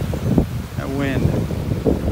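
Strong wind blows across a beach in North Naples, Florida, roaring and buffeting the microphone close and continuously while a voice is heard briefly.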